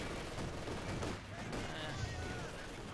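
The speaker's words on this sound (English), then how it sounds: "Light machine gun flanking in there," Light machine gun fire rattles through a Company of Heroes 2 1v1 match, a dense, continuous crackle of shots and battlefield noise running beneath a commentator's talk.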